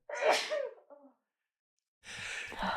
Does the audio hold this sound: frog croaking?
no